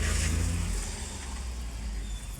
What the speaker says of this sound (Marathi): आमचे ड्रायव्हर भैया अरविंद सरांना खूप त्रास होतो गाडी चालवायला